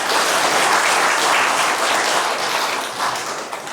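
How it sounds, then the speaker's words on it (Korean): Audience welcoming guests with applause at the Boryeong Literature volume 23 book launch and literary award ceremony in Korea: a full, dense round of clapping that fills the room steadily, easing slightly near the end. "큰 박수로 맞이해 주시기 바랍니다"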